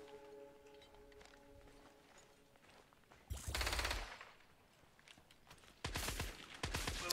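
Gunfire in the video game Scavengers, with two loud automatic bursts a couple of seconds apart that break a quiet stretch, the second followed by another short volley.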